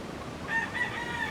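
A brief, faint crow comes from an Asil Boston cross White Kelso chicken in a yard, a short high call over quiet background.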